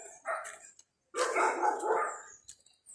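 Several dogs bark in short bursts along a mountain hiking trail, a few sharp barks followed by a longer overlapping flurry at moderate distance, with no talking.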